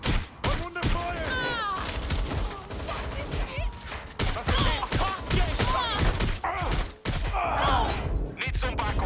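Watch Dogs Legion gameplay with repeated bursts of close, loud gunfire in irregular volleys, mixed with thuds and brief voice sounds and chatter throughout the firefight.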